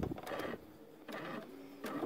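A sewing machine stitches a Christmas stocking, running in three short mechanical bursts with brief pauses between them, close and quiet.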